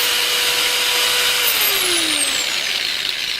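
A Harbor Freight Bandfile belt sander runs loud and steady at high speed, its whine sliding downward in pitch as the motor slows partway through, with no voices over it.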